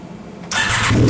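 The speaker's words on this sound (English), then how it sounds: "I like the sound of that startup better." Car engine of a YXZ cranking and catching after a repair, a sudden close roar that settles into a steady, loud running note.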